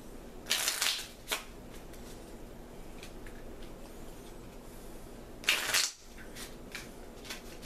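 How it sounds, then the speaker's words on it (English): Board game RNA cards from Linkage are riffle-shuffled in two quick bursts of crisp fluttering, close and distinct, with soft card handling and light tabletop taps between them. "shuffle up all of our RNA cards and then distribute 4 to each player"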